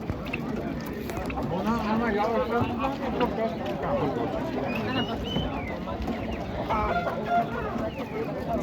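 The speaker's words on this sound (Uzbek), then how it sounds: "Birzellik ming so'mdan kurka jo'jalar" A flock of turkey chicks peeping and clucking continuously at a poultry market, with people talking nearby and general bustle.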